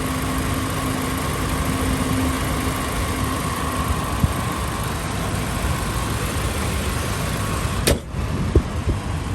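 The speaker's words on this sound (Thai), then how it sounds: "เครื่องเดินนิ่มๆแล้ว" A car engine idles smoothly and steadily nearby, a constant low rumble with a brief click near the end and no voices.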